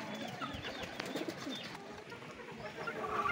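Champion-line breeder pigeons coo softly and repeatedly in a loft, low throaty calls overlapping against a faint steady background with light rustling.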